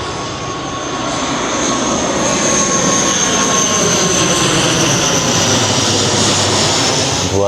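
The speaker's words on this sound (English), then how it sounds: "Okay, sounds like there is another plane coming." A local airplane flies overhead in Thailand, a loud, steady engine roar that swells over the first second and then holds strong and continuous, with no talk.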